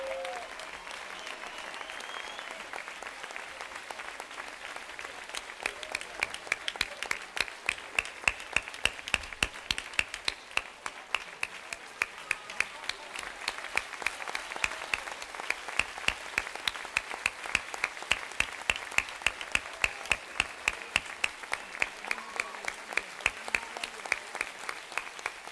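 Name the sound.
audience applause for the music band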